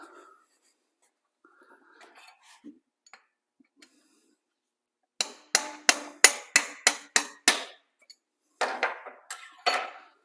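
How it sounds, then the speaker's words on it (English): After a quiet stretch with faint clinks, a rapid run of loud metallic hammer blows beating cylinder heads off an old Lincoln engine's upturned cylinders rings out, pauses briefly, then another burst of strikes follows. "take the jugs off, turn them upside down, and beat the heads off"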